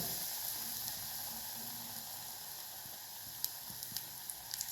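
Gram flour batter-coated chillies frying in hot oil, a steady soft sizzle throughout with a few faint crackles and pops near the end.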